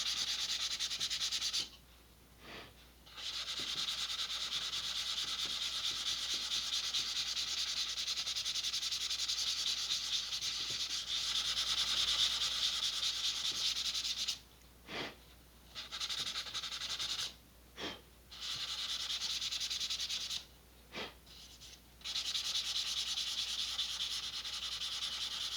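Steady hand sanding of an Estes Sentinel model rocket, a continuous hissing rub that runs for long stretches, pausing briefly several times before resuming, close and quiet with no voices.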